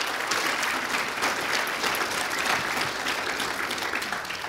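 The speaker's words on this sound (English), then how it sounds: "Let's give one more round of applause to our seniors." A full round of applause for graduating seniors at a church gathering, dense and even crowd clapping that stays loud and steady throughout.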